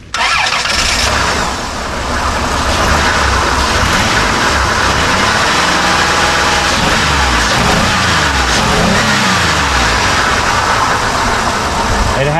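A car engine cranks and fires after a cylinder misfire repair with new ignition parts and injectors, then settles into a loud, steady, even idle close by that continues unbroken.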